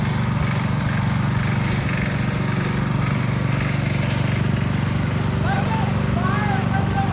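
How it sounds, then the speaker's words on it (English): A lawn mower mowing a yard gives a steady, rumbling engine drone that runs continuously and fairly close, while people talk over it. "got old Gramps mowing the yard"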